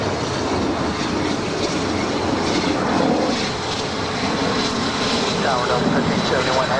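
A Southwest airliner takes off from runway 24 left at LAX, a loud, sustained jet roar heard from a distance, with faint voices murmuring underneath.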